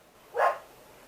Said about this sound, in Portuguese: agora eu consegui uma cachorra vira-lata para fazer barulho a madrugada todinha